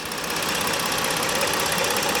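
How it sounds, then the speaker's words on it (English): A 2016 Ford Explorer Police Interceptor, a former highway patrol vehicle, with its engine running steadily at idle, a close, even mechanical hum with a faint rhythmic knock and no talking. "Super quiet, very strong little engine here"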